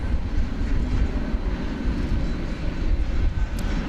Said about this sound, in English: there's a United, looks to be an Airbus A319,